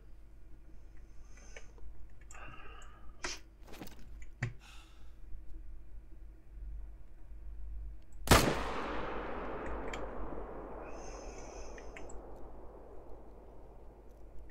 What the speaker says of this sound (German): so ein paar weite Schüsse wollte ich halt mal zwischendurch probieren.